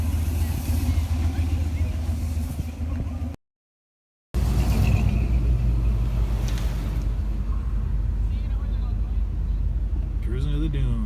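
A Ford Bronco cruising toward the dunes at a Bronco Takeover gathering, its engine a steady low rumble throughout with a brief dropout partway, while people talk over it.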